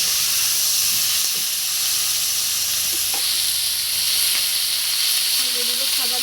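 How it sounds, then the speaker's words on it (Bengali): Neem leaves crisp in hot oil with a loud, steady hiss and sizzle that keeps going throughout, and a few faint utensil knocks come through underneath. "এরপরে দিয়ে রাখা নিম পাতা, এটাকে একদম তেলের মধ্যে মশমশা করে সুন্দর করে ভেজে নেব"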